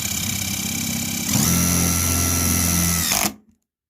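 DeWalt 12V 3/8 brushless impact driver driving a self-tapping screw, a steady loud whine that shifts into rapid hammering impacts partway through, then stops abruptly into silence.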